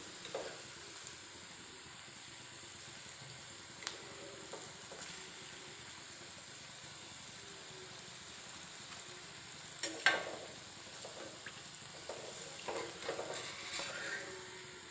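Kaalan mushroom pieces frying in fresh oil give a quiet, continuous sizzling hiss, with occasional louder crackles and bursts near the end.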